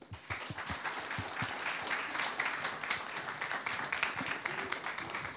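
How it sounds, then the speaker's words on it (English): An audience at a talk applauding to welcome a speaker, a moderate crowd clapping steadily throughout, the individual claps distinct at first and then blending into a continuous patter, heard from some distance. "can we give him a round of applause to welcome him?"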